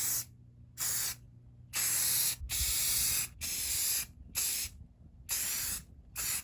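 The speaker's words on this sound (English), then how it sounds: "So I'm going to spray paint them black." A spray paint can hisses in a series of short bursts, about eight sprays with brief pauses between, close and fairly loud.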